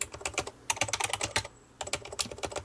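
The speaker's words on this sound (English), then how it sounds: "It's like an old standard solid keyboard." Fingers type rapidly on the solid keyboard of an Amstrad NC100 portable computer, a dense clattering stream of keystrokes close up with brief pauses and no talk.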